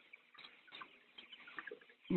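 Soft clucking and murmuring from a group of 16-day-old broiler chickens, irregular and close, ending in a sudden louder thump.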